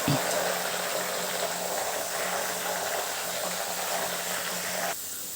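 Green farali chevdo frying and being mixed in a pan, giving a steady, loud bubbling sizzle with hiss that runs almost unbroken, then drops abruptly near the end.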